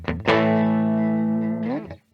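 One long sustained note from a Donner DLP-124 single-cut electric guitar on its bridge pickup, with overdrive, plucked sharply, held steady, then bent briefly before cutting off.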